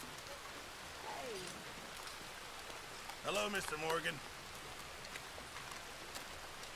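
Steady rain falls in Red Dead Redemption 2, a soft even hiss that runs throughout while characters exchange brief greetings midway.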